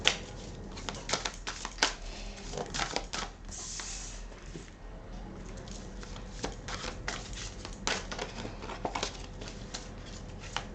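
Tarot and oracle cards are shuffled for a love reading, soft riffling and slapping bursts repeating irregularly and close at low volume against a quiet background.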